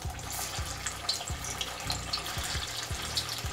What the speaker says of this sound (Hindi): ऑयल हम लोग का हीट हो गया है, अब हम इसमें मंचूरियन बॉल्स डालेंगे एक एक करके।